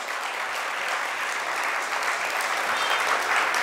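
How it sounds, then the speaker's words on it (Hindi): An audience at a Hindi sermon applauds steadily, dense sustained clapping from many hands filling the space at an even, loud level throughout. "उनके सम्मान में जितनी ताली बजाएं उतना कम है"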